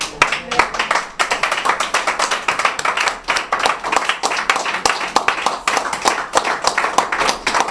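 A church congregation at a French-language sermon claps together in a fast, steady rhythm for several seconds, loud and filling the room with sharp hand strikes.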